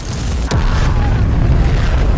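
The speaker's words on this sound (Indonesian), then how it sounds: "Dan motor itu langsung meledak." A motorcycle explodes in an animated series after leaking gasoline reaches a dropped lighter: one sudden, loud, close boom that rolls into a sustained heavy roar of fire and rumble.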